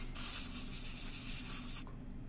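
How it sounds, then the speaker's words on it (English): A can of compressed air blasts a Dyson DC50 vacuum's wheel axle with a close, steady hiss that runs for nearly two seconds and then cuts off sharply. "So then I went and got some air, compressed air, and a can here, just to kind of finish up the job"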